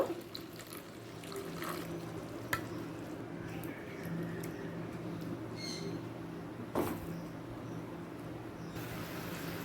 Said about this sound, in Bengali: দেখুন ফুট ধরতে শুরু করে দিয়েছে